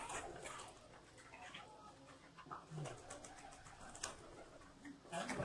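Pigeons coo softly in a loft, quiet calls mixed with faint rustling and scattered background noise throughout.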